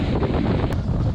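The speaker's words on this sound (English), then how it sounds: "little windy out here today." Wind gusts across the microphone on a yacht's deck, a loud continuous buffeting rumble with faint washing of water, short and without voices.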